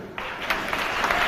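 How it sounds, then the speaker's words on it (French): A church congregation breaks into applause and cheering, a broad steady wash of clapping that swells in the second half and carries on to the end. "Quelqu'un peut acclamer le Seigneur."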